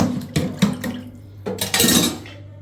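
Dishes being washed under running water at a kitchen sink, with clattering plates and cutlery knocking together in several close, uneven bursts over a steady hiss of water.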